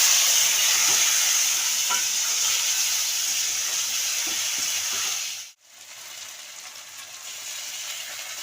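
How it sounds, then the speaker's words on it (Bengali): Steady loud sizzling and hissing from frying potatoes with coriander, cumin and turmeric in a hot pan, with faint stirring scrapes, then a sudden brief drop as water is added before quieter sizzling resumes. "আলু তো ভাজা হয়ে গেছে এর মধ্যে ধনে জিরে গুঁড়ো হলুদ গুঁড়ো সব দিয়ে দিয়েছি আমি একটু জল দিচ্ছি"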